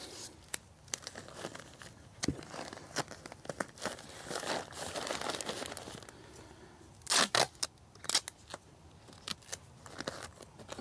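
Strip of tape torn off a roll to fasten insulation wrapped around an outdoor irrigation backflow preventer, heard as scattered crinkling and crackling handling noises with a few sharp ripping bursts near the end, close and fairly quiet.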